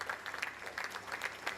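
An audience claps at a Diwali comedy stage show, fairly faint and distant, with steady overlapping handclaps and a few sharper individual claps standing out.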